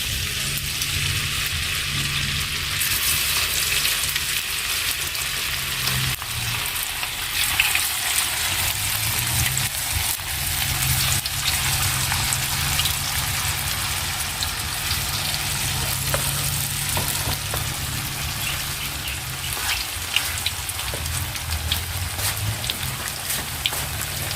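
Food fries in hot oil in a home kitchen, a steady dense crackling sizzle like heavy rain that runs without a break, with a faint low hum underneath.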